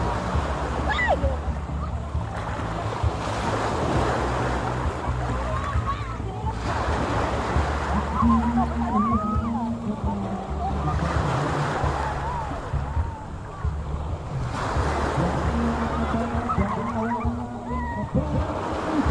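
Sea waves wash onto a beach with a steady surging roar and periodic swells, while people talk and call out over the surf and some wind buffets the microphone.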